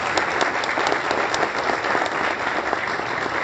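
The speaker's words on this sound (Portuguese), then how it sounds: "Salve de palmas pra eles." An audience at a comedy show claps in dense, steady applause, loud and continuous throughout without any talk.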